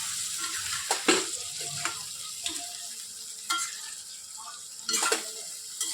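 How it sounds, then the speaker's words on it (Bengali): Food being stir-fried in a pan for a Bengali kosha preparation, with a steady sizzle and repeated scraping strokes of a spatula against the metal, recurring every second or so, close by and with no voices. "এবার এটাকে ভালো করে কষতে হবে।"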